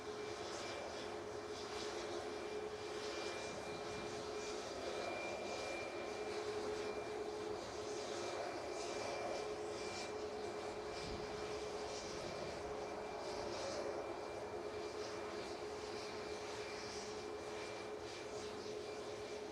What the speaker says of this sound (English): 737 MAX 8 in front of us here, heading out to Antalya in Turkey